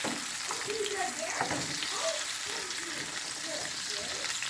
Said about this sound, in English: I'm just gonna fry these for about a minute